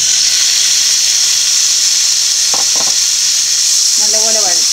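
Chopped tomatoes with garam masala sauté for a mutton dish, giving a loud, continuous hissing sizzle with a couple of brief scraping taps, and a short voice surfaces near the end.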